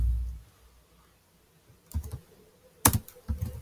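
Code typed on a computer keyboard during a React tutorial, with quiet clusters of light key clicks arriving in short bursts after a near-silent pause.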